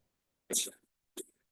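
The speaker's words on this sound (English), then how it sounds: "There's a bad cough in this room today." Two short harsh coughs in a council meeting room, a louder burst followed by a quicker second one, close and otherwise quiet.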